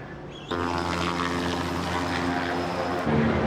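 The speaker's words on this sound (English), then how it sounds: "Trained to roll every time they see a chopper fly." Helicopter engine and rotor roar in a TV action drama, bursting in abruptly after half a second of quieter sound, then holding loud, steady and close with strong harmonic drone before shifting at the end.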